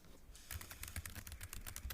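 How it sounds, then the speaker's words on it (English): Typing on a computer keyboard at home, quick uneven clicks of keys starting after a brief pause, faint and close. "Typing on my computer."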